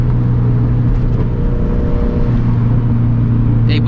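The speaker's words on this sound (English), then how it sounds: "just the car itself, that blow-off valve" Turbocharged FRS engine under way, a steady close drone with road noise and a faint hiss near the end, with no talking.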